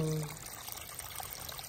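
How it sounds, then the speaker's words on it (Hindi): Irrigation water runs quickly through a vegetable plot being prepared for sowing, a soft, steady rushing trickle after a brief voiced sound at the start, fairly faint and continuous. "पानी अभी जारी है, ये देखें तेजी से जा रहा है"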